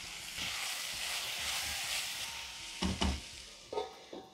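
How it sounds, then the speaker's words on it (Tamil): Tomatoes sauté with a little salt in a pan while dosakai sabji is being cooked. A steady close sizzle hisses for a few seconds, then a few sharp clinks of a spoon stirring against the pan. "தக்காளி வதங்கிறதுக்கு ஒரு 1/4 ஸ்பூன் உப்பு போடுறேன்"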